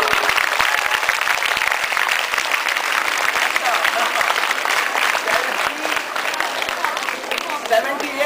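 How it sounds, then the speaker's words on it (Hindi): Audience applause for a student at a 2011 marksheet awarding ceremony: dense, steady clapping from a crowd that fills the whole stretch, loud and close, with no pause. "इनके लिए जोर से ताली बजाइए"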